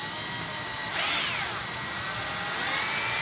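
A power drill runs on a small motorcycle screw, a steady whirring whine that rises briefly in pitch partway through before settling, heard close and alone.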